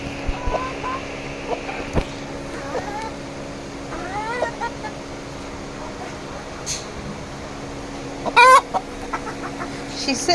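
Chickens cluck and squawk in short bursts over a steady background hum on a dairy farm, with a sharper, louder squawk near the end.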